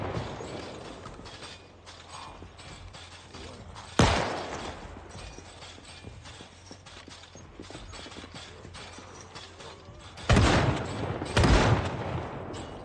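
Shotgun blasts in the zombie survival game Project Zomboid, two or three sharp, loud booms spaced several seconds apart, with clattering, creaking mechanical game noises and shuffling in between.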